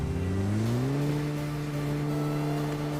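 A buggy in the battle royale game BGMI drives with a loud, steady engine drone that rises in pitch over the first second as it accelerates, then holds a constant hum.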